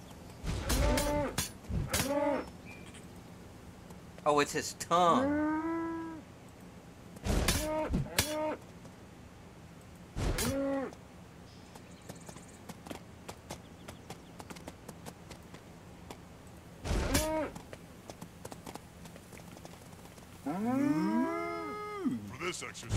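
Cows mooing in the video game Guild Wars 2, several loud, drawn-out moos spaced across the clip alongside clip-clopping hooves, with a brief spoken remark between calls.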